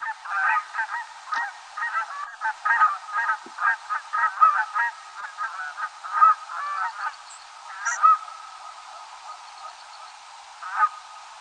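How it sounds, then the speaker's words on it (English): Canada geese honk repeatedly overhead during nocturnal migration, a steady stream of overlapping calls at moderate distance with no other sounds. "Those are Canada geese."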